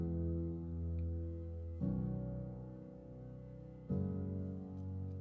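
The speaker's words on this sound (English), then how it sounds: "It defaults to felt piano, which sounds super cool." Soft, muted felt piano chords played in a slow progression, with about three sustained chords changing every two seconds. The piano is quiet, warm and alone.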